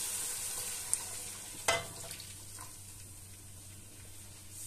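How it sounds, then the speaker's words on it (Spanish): Beer (300 ml) is poured onto sizzling pork in a pan, bringing a sharp hissing burst and splash against a steady, moderate frying sizzle. No talking is heard. "añadimos 300 ml de cerveza"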